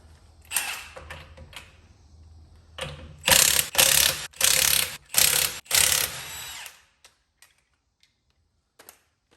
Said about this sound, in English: take a 22 millimeter and take your lug nuts off